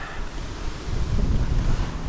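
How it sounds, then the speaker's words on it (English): Gusty wind on a rooftop rumbles against the microphone, swelling louder partway through, with no one speaking. "Yeah, it's pretty windy today."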